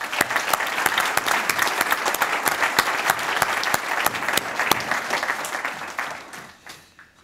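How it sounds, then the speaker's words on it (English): Round of applause at a police services awards ceremony, steady crowd clapping for several seconds with crisp individual claps, then fading away toward the end. "and let's give him a round of applause."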